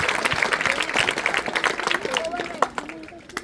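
A crowd at a school science exhibition function claps for the teachers, with brisk, dense clapping and some murmuring that fades toward the end, heard under an ongoing voice.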